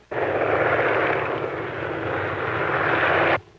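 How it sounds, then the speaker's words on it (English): Airplane engine of a plane circling to land in an old feature film: a loud, steady droning roar that starts abruptly, holds evenly for over three seconds, then cuts off sharply. "Calling plane number 1, Elmer Lane"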